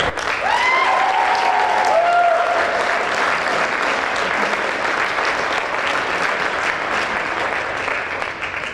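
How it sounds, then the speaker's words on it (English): Audience at a Miamisburg High School band winter concert gives a sustained, loud round of applause throughout, with a few high whoops and whistles near the start. "round of applause"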